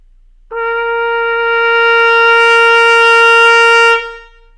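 A single sustained trumpet note, bright and brassy, pushed louder with extra breath, held for over three seconds and swelling gradually louder before fading out.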